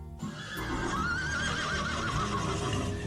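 A horse neighs in a long, wavering whinny with faint hoof clip-clops beneath, sounding moderately close and alone, no talk.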